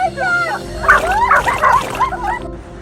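A dog at the beach yelps and whines excitedly in short bursts, with splashing water and a faint background hum.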